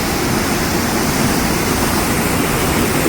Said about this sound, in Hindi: ये देखो नदी